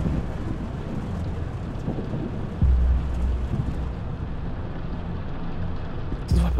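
A thunderstorm in a horror video game: steady heavy rain with low rolling thunder, a louder rumble swelling partway through and another near the end, loud and continuous with no voices.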